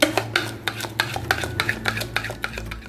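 Ingredients for a Russian fruit salad, with salt, sugar, banana, apple and cabbage, being stirred together in a bowl: a steady run of soft, wet scraping strokes with light clinks, close and alone, about a dozen strokes in quick rhythm.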